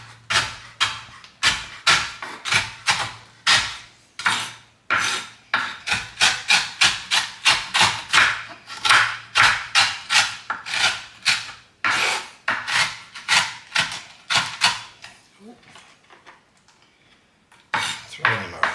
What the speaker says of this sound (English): just chop them down with a knife